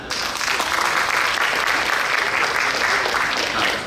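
Sustained, full applause from an audience at a tech expo event, dense clapping that stays loud and even for several seconds before easing slightly at the end.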